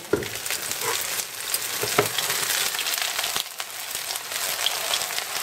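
Potato pancakes frying in oil in a pan, a loud close crackling sizzle with scattered pops and stirring clatters, continuous throughout with no talk.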